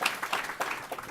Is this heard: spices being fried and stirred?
no